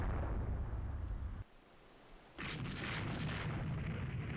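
Heavy naval gunfire in the warship game Rule the Waves 2: loud, dense booming salvos with rumbling roar, a brief lull near the middle, then another sustained barrage of gun blasts.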